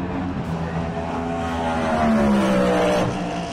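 A race car in the Road to Le Mans Michelin Cup support race at the 24 Hours of Le Mans 2025 roars past, its engine note loud and close, sweeping in pitch as it goes by, with no talk.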